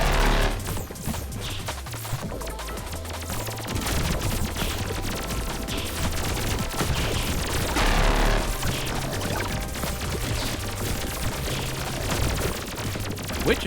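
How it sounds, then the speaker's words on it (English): An enemy fires a laser grid in the video game Pathogenic: dense, rapid bursts of shots crackle almost nonstop at close range, layered over steady game music and effects. "Which enemy is firing that laser grid?"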